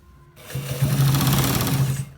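Sewing machine stitching the end part of a designer shirt with buttons, a single run of rapid rhythmic needle clatter about a second and a half long, close and loud, with brief quiet before and after.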